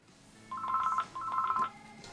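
A telephone rings at a radio station's 24-hour traffic desk, two clear electronic ring bursts with a short gap between them, close and alone with no talk.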